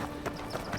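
Footsteps of unfamiliar visitors in the video game Avowed, about three soft, evenly spaced steps close by, with a faint clopping quality over a quiet ambient bed.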